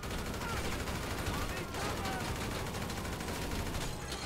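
Gunfire in GTA V Online, dense rapid automatic bursts and overlapping shots forming a constant, loud barrage throughout, with a sharper crack near the middle.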